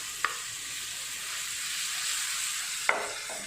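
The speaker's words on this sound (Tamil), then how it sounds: "அதே நெய்யில் வாழைப்பழத்தை சேர்த்துக்குங்க" Bananas frying in ghee for banana halwa: a steady, even sizzle close by, broken by two sharp utensil clicks near the start and end.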